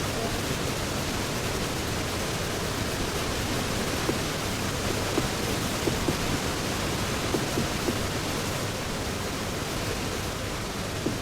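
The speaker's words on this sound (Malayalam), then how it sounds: "നല്ല വെള്ളച്ചാട്ടമൊക്കെ ഉണ്ടല്ലോ ഇവിടെ." A waterfall in the Roblox video game, set in an Antarctica expedition map, rushes as a steady, dense roar of falling water that stays constant and unbroken throughout, with no clear voices over it.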